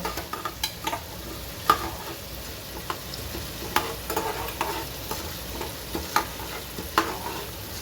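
Ingredients for pineapple gojju fry in a pan, a steady crackling sizzle with repeated sharp scraping knocks as a spoon stirs them, close and fairly quiet, with no talk.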